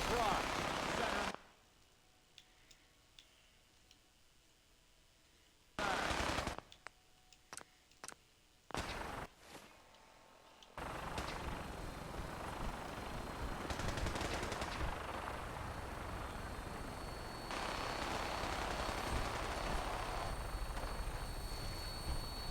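Video-game gunfire around a Vertibird aircraft: after a quiet stretch come sharp, separate bursts of shots, then a loud, sustained rattle of fire mixed with rotor-like roar that carries on to the end.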